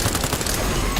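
Rapid automatic fire from a machine gun in Cyberpunk 2077 rattles on continuously as a dense, noisy burst throughout, with a voice talking over the shooting.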